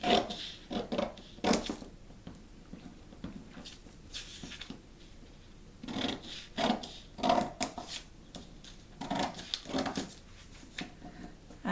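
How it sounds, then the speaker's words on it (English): Scissors cut lines into a paper sewing pattern for a flutter sleeve: short, crisp snips and paper rustles come in irregular bursts, close and fairly quiet, with no talking. "So now I'll cut these other lines, again not all the way to the top."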